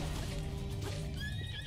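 A horse in Breath of the Wild neighs and whinnies near a Hinox boss fight, a brief loud equine call over steady low game ambience and rumble.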